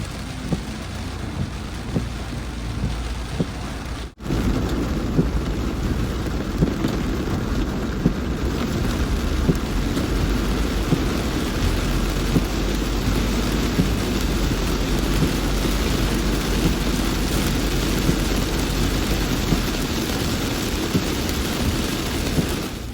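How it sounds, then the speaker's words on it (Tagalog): Heavy rain pours steadily in a dense, continuous roar with distant thunder rumbling underneath, sustained throughout with a brief dip early on, during a rainy day in Las Piñas. "Lumakas na naman ang ulan."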